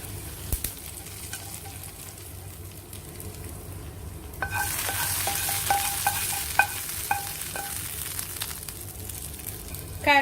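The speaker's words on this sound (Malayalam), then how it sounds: "തേങ്ങാക്കൊത്തും ചുവന്നുള്ളിയും നന്നായി മൂത്ത് വന്നിട്ടുണ്ട്. ഇനി ഇത് മട്ടൻ കറിയിലേക്ക് ഇട്ട് കൊടുക്കാം." Fried coconut pieces and red shallots tipped into a pan of Kerala-style mutton curry, an initial quiet stretch giving way to loud, bright sizzling with scattered clicks and stirring scrapes, close up.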